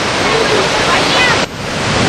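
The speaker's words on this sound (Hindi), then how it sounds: "उत्तरकाशी में भागीरथी नदी का तांडव जारी है" The raging Bhagirathi river in flood at Uttarakhand during monsoon rushes with a loud, continuous broadband roar of water that dips briefly near the end.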